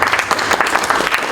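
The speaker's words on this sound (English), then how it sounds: "Can you clap for yourself?" Audience at a medical alumni association event applauding, a loud, dense burst of clapping filling the short moment.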